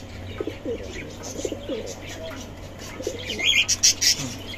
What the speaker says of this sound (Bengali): সুন্দর ডাকতেছে, একদম সুস্থ সবল কবুতর